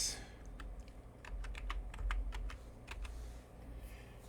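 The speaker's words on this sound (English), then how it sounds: "using your TomTom add-on, type in these waypoints" Rapid keyboard typing of waypoints into a World of Warcraft add-on, a quick run of crisp key clicks in bursts over a low hum, close and fairly quiet.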